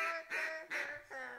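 A duck call blown properly gives four close, loud quacking honks in a steady rhythm, each falling off at the end, with no talk over them.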